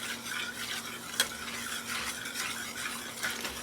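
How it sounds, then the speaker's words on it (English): Spoon stirring milk into a white gravy in a pot for cheesy Top Ramen, a steady soft scraping and swishing with a faint sizzle, close and continuous, with one sharper clink partway through. "Just keep stirring and adding your milk little by little"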